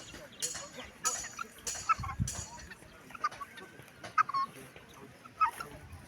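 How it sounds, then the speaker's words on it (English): Guinea fowl, including a white one, grazing on a poultry farm, giving scattered short squawks and chattering calls at moderate distance over a busy outdoor background. "Guinea fowl race."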